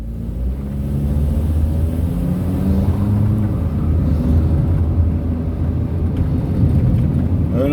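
A bus passes along a street in Port Antonio, Jamaica, its engine a steady, loud rumble that fills the whole clip without break, with no talk over it.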